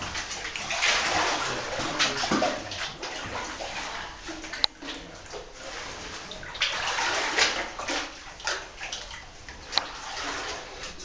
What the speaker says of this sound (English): So we're now we're in the water, trying to make our way through.